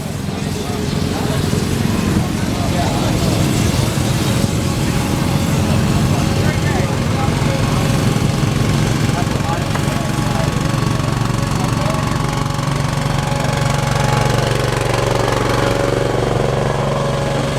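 A vintage Frick steam engine runs at an outdoor Maryland steam show, giving a loud, steady low mechanical chugging drone that continues throughout, with faint crowd sounds mixed in.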